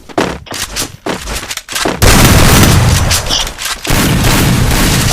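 Gunfire in the mobile battle game Free Fire: a few sharp shots, then a dense, loud burst of rapid automatic fire and booming impacts in quick succession.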